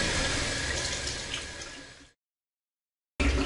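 Warm to hot water runs steadily from a tap into a sink, a loud continuous splashing rush that stops suddenly, leaving a second of silence before the flow bursts back on.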